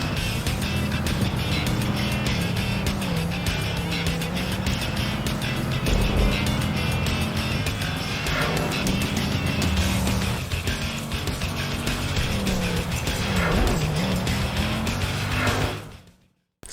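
Race car in Project Gotham Racing 2 on Xbox taking a technical corner at high speed, a continuous loud engine drone with revving and shifting, cutting off abruptly at the end.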